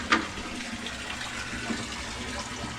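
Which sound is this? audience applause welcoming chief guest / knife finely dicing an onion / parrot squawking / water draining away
water draining away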